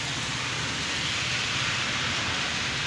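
Steady rain falls on a street in Multan city, a continuous even hiss of drops with no pauses and no voices over it.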